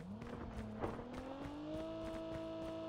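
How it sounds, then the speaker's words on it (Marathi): A vehicle in a battle royale video game drives closer, its engine hum climbing steadily in pitch with faint tyre and road noise, fairly close and unaccompanied by talk. "काय गाडी आली, गाडी आली, गाडी आली."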